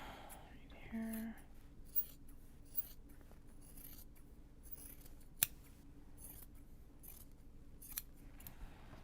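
Scissors trimming Japanese fabric while sewing drawstring bags, a series of soft, close snips and rustles spread across several seconds, with one sharp click and quiet whispery talk in the background.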